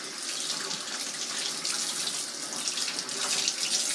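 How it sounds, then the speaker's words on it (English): Kitchen tap water running steadily while catfish fillets are rinsed under it, a close, continuous splashing hiss with small fluctuations as the fish moves through the stream. "Rinse the fish off good."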